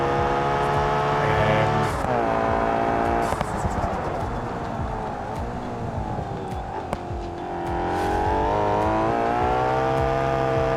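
Race car engine in the BeamNG video game, loud and continuous through a lap, pitch rising and falling with gear shifts and throttle, with brief lifts and a voice talking over it.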